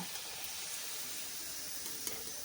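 Potato twisters frying in hot oil, giving a soft, continuous sizzle and bubbling at low volume with a faint clink near the end, no voices.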